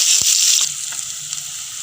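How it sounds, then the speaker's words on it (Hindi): Chopped onion frying in a pan with a bay leaf for a kamal kakdi sabzi, a bright steady sizzle that is loudest at first and then settles, with a few soft stirring knocks. "अब इसमें हम डालेंगे कटी हुई प्याज और इसको लाल होने तक भूनेंगे।"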